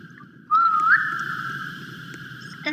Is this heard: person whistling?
yes